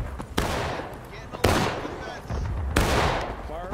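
Musket volleys crack out in the Civil War video game War of Rights as three sharp, loud bursts of fire with rattling echoes and crowd noise between them.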